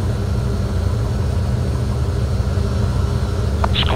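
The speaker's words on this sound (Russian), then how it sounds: "2 двигателя на взлетном" Tupolev Tu-134A-3 twin jet engines at takeoff power during the takeoff roll, a steady loud low roar and broadband rumble filling the whole stretch, with a faint brief whine near the end.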